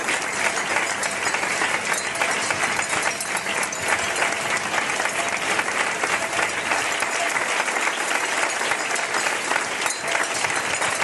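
Audience applause at a live performance, dense and loud continuous clapping from a large crowd, sustained throughout, close with no talk.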